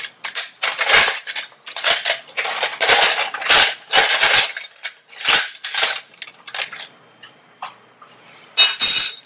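A metal spoon is pulled from a cutlery holder in a kitchen, giving bursts of bright clinking and jangling clatter that come and go over several seconds, close and fairly loud.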